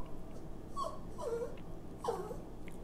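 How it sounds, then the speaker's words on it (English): A dog whimpers in a few short, high, plaintive cries spaced over a couple of seconds, heard fairly close against a quiet kitchen background. "the dog's crying about it"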